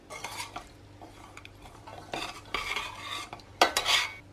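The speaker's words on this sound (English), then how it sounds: "Just stir it continuously to help everything along and just keep going till the chocolate has melted" Melting chocolate stirred in a pan over heat, with repeated scraping and clinking of a utensil against the pan in irregular strokes, close and fairly quiet under a faint sizzle.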